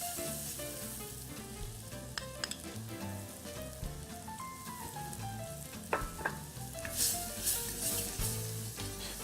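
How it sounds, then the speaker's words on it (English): Butter melting in a pan as flour is stirred in for a roux for mushroom bisque, giving a steady low sizzle with scattered clicks and scrapes of the spoon, close by, with no talking. "And as that butter melts, we're going to stir in the flour."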